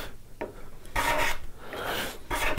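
A card scraper rasps across the wooden surface of a flower planter in several firm, gritty strokes of uneven length, close and fairly loud, with no talking.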